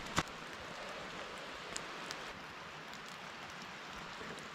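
Steady rain falls in a wildlife and ecological preserve near Mt Rainier, a continuous dense hiss with a few sharper drop taps, close and even throughout.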